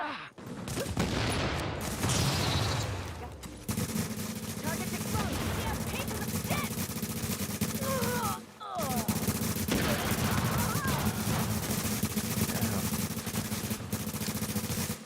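Sustained gunfire from The Division video game, with many weapons firing in a dense fusillade under continuous game noise, loud and nearly unbroken except for a brief drop partway through.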